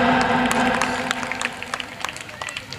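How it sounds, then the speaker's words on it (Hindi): Applause from a ceremony audience honouring Ajay Gupta with a memento, a dense burst of clapping that starts loud and thins into scattered claps over about three seconds, with crowd murmur beneath. "अजय गुप्ता जी जोरदार तालियां"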